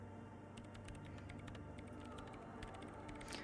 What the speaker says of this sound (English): She's behind the keyboard now, typing in some numbers that only she understands.